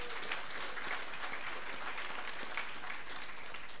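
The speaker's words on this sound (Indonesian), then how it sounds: "Berikan aplaus" Applause from an audience at a university graduation ceremony, a steady, dense wash of clapping that fills the hall at an even level throughout without pauses.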